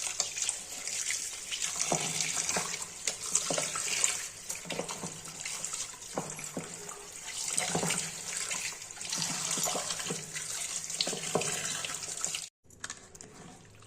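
Raw chicken rinsed under a running kitchen tap, a steady close rush of water splashing onto meat and a container, with shifting gurgles as the pieces are turned, then a sudden brief cut near the end.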